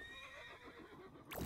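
A horse in the Realm Royale video game lets out a short whinny right at the end, rising sharply out of a steady bed of game ambience.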